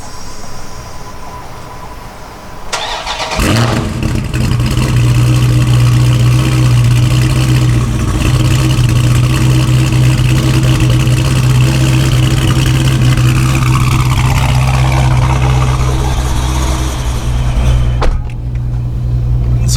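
A 2018 Mopar car outdoors starts up with a sudden loud catch after a few seconds of quiet, then settles into a steady, deep, close idle rumble that continues to the end.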